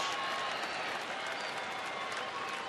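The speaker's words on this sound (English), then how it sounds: "Crowd now starting the applause in support of Mike Adams and the Rangers." Crowd applause at a Texas Rangers home baseball game against Cleveland, a steady dense wash of clapping filling the ballpark, fairly distant and even throughout with no clear talk on top.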